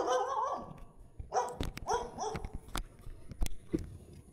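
Dog barking in short, sharp bursts at close range during a Grab Express delivery stop, several quick barks and yips over a few seconds with faint background noise between them.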